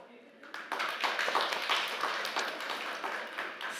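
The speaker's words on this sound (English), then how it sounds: "Please give them an applause." An audience claps for a panel at a Nordic hydrogen valleys event, the applause starting after a brief pause and continuing steadily at moderate loudness.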